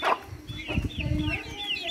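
A hen clucks among a brood of duck chicks, with repeated close clucks and faint cheeping over a busy, mid-loud farmyard background.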